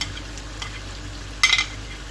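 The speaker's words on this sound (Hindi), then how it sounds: "मैं इसमें टमाटर डालूंगी" Large tomatoes dropped into hot oil in a pan for Pakistani chong gosht salan, giving a steady low sizzle with a short, louder burst of spattering and clatter near the end.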